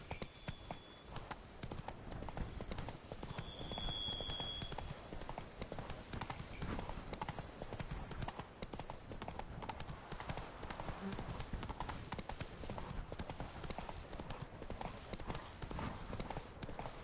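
Horse hooves clip-clopping steadily throughout a ride in The Witcher 3 Blood and Wine, a continuous rhythmic trot over a dense bed of ambient game sound.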